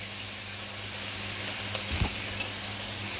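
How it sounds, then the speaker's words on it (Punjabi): Onions and potatoes fry in a pan with a continuous, moderate sizzle. Occasional scraping stirs come through in the second half, and no voices are heard. "ਇਸੇ ਤਰ੍ਹਾਂ ਹਿਲਾਉਂਦੇ ਰਹੋ ਤਾਂ ਕਿ ਥੱਲੇ ਨਾ ਲੱਗ ਜਾਵੇ"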